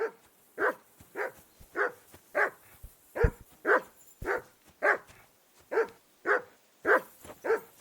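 A dog in Kingdom Come: Deliverance 2 barks in a steady repeated series of about a dozen sharp, evenly spaced barks, close and loud, with no talking over them.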